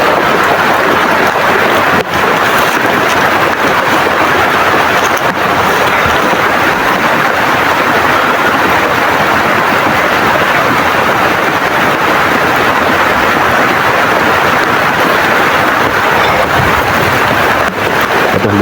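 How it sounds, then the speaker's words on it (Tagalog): Heavy rain pours without pause outdoors near an encampment in grassy ground, a loud, dense, even roar that fills the whole stretch, with the rush of wind against the microphone. "Grabe ulan tol."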